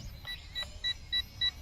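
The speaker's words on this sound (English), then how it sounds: "It is beeping" Four short, evenly spaced electronic beeps from a Xiaomi MiJia G6 toy drone, sharp and fairly close over a low background hum.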